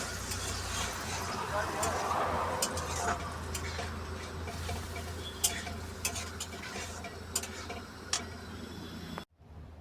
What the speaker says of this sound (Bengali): তো এবার একটু হালকা করে জল দেবো তো দিয়ে দিলাম